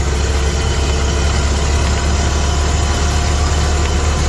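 Ford Model T engine running steadily on a quiet, flat road during an afternoon drive, a loud, continuous low rumble close by with no voices.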